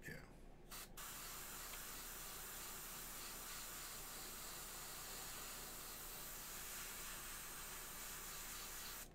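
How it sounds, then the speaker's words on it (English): An airbrush sprays paint onto the thigh panel of a McFarlane Hellblaster Primaris marine figure, giving a continuous close hiss that holds steady throughout, with a faint low hum underneath. "Just spraying down this thigh panel here, just get some of the color building up."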